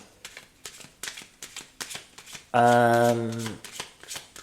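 Tarot cards are shuffled in quick, regular riffling flicks, about two per second, close and moderately loud, then a brief voice-like tonal sound cuts in for about a second before the shuffling resumes.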